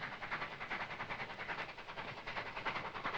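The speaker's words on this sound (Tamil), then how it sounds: "சார் வண்டி எடுங்க, ரயில் வருது." A train rumbles past with steady rolling clatter and rhythmic pulsing, loud and continuous throughout, no voices heard.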